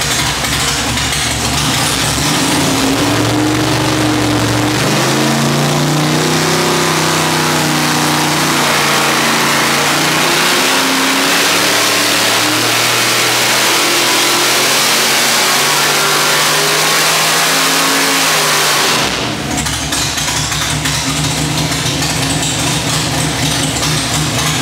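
A 632 cubic inch big block Chevy V8 of about 900 horsepower revs hard on a dyno through a full street exhaust with muffler, climbing in a long loud pull for about fifteen seconds before dropping back to a rumbling idle.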